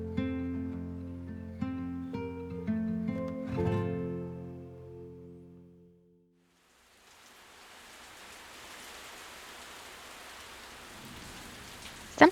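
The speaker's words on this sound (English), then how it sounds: "Sometimes you plan a road trip hoping for sun and then it starts raining." Rain falling during a road trip, a soft steady hiss that fades in after a stretch of music and continues alone at moderate loudness to the end.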